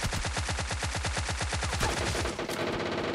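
A Tommy gun fires in PUBG Mobile, a loud, close, rapid burst of evenly spaced shots that lasts just under two seconds before breaking into a noisy tail.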